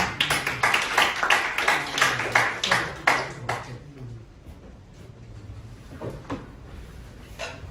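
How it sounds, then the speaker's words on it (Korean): An audience at a Korean newspaper anniversary ceremony gives a short, close burst of applause to welcome a speaker, dense clapping that fades out after about four seconds, leaving a few scattered claps. "박수로 모시겠습니다."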